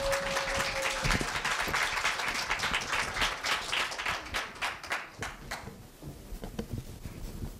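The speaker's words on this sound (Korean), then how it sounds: "큰 박수 부탁드립니다." Audience applause at a middle-school speech festival in a university hall, steady dense clapping that carries on for several seconds, then thins and fades toward the end.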